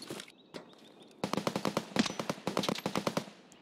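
Rapid automatic gunfire in the shooter Escape from Tarkov, PvE mode: a few scattered shots followed by dense, sharp bursts of fire that ring out loud and close.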